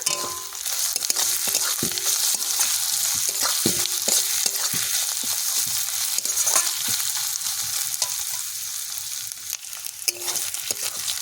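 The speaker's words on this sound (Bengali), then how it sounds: "আদা রসুন পেঁয়াজ ভালো করে ভেজে নিয়েছি।" Onion, ginger and garlic frying with bay leaf in a pan for Bengali mutton curry, a steady loud sizzle broken by repeated scraping stirs and clicks of a utensil against the pan, with no talking.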